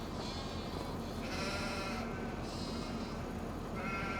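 Sheep bleat inside a crowded barn holding hundreds of animals, several overlapping calls rising and fading over a steady background din, with no talk.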